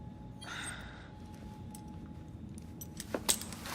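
Keys jangle as they are handed over in Assassin's Creed Syndicate: a few brief, faint metallic jingles come near the end over a low steady background hum.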